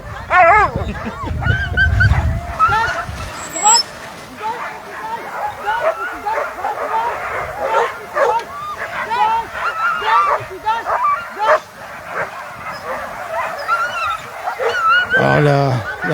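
Excited sled dogs at the start of a sled-dog race from Chasseradès, barking, yipping and whimpering in a dense, continuous chorus, loud and close, with wind buffeting the microphone and people talking throughout.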